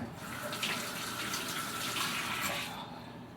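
Tap water runs steadily into a kitchen sink as greasy hands are washed during homemade pie crust making, a close, continuous splashing rush that stops near the end.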